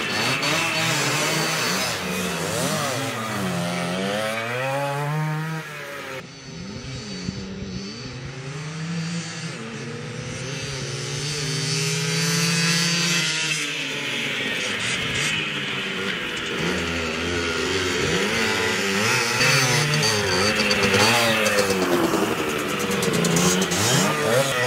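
A tuned Honda MT5 moped engine starts and revs, its buzzing two-stroke note rising and falling through repeated throttle blips over a long stretch, loud and close with no speech.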